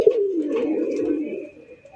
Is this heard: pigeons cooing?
yes